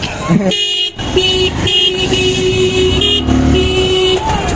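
Heavy lorry and car traffic on a crowded road to a temple fair, with engines droning close by and repeated sustained horn blasts sounding over and between them while people talk.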